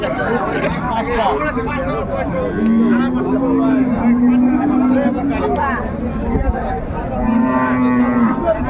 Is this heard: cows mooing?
yes